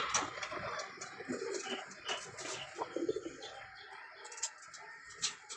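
Two pigeons coo repeatedly in a loft, with soft overlapping calls, chirps and occasional wing rustles, fairly close and steady throughout.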